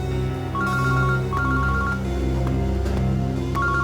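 A phone ringtone chirps in repeated two-tone electronic bursts over a steady background, sounding about four times in a short span with no talking.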